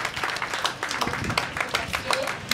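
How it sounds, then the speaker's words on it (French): Audience applauding at a youth gathering, a moderate burst of uneven hand claps with distinct individual slaps, fairly close and sustained throughout. "On l'applaudit quand même, non?"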